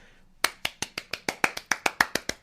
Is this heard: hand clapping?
yes